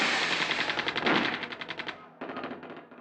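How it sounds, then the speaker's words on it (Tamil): Rapid automatic gunfire in a war scene from a Tamil film, a loud close burst of fast repeated shots, a short gap, then another quicker burst. "அங்க அலறல், எக்ஸ்ப்ளோஷன்ஸ், துப்பாக்கி சத்தம்"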